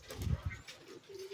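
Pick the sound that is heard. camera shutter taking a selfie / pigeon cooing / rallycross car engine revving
pigeon cooing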